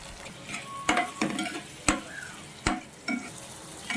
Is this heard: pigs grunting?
no